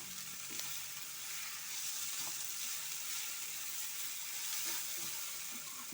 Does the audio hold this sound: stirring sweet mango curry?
yes